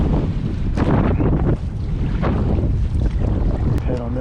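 Strong gusts of wind buffet the microphone on a fishing dock by the water, a continuous rough roar that swells and dips, with a brief voice near the end.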